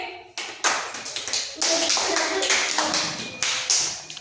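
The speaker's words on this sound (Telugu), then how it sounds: "క్లాప్స్ కట్టండి." Children clapping together in a classroom after a shopping game activity, a dense burst of many hands tapping with uneven rhythm, loud and close, sustained for several seconds with a few stronger swells.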